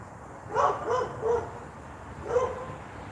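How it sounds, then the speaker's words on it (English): A dog barks next door, four separate barks in an uneven rhythm, sounding slightly distant and moderately loud against a faint background hum. "I've never heard that dog next door."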